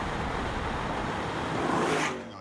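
A fast British car drives at high speed, its steady engine and road roar holding loud and even, then swelling briefly before falling away at the end; no one speaks.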